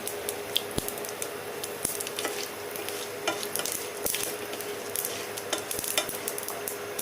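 Urad dal and cumin seeds fry in hot oil in a pan, giving a loud, steady sizzle dotted with sharp pops and crackles throughout, with no voices.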